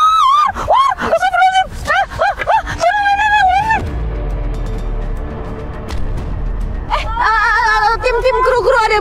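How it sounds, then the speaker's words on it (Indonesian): A person in the forest screams in fright at a big snake: several loud wavering shrieks, a short gap of rustling and low noise, then more shrill cries. "Langsung aku loncat jerit."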